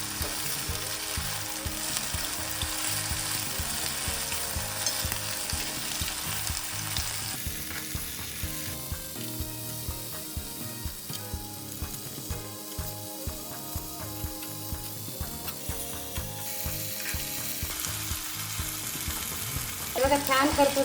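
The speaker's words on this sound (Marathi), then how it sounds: "हे बघा, पनीरची आपण बाजू पलटून घेणार आहे आता." Paneer tikka pieces sizzle and fry steadily in a pan, with scraping and clinks from a spatula as they are flipped, close and continuous with no talking.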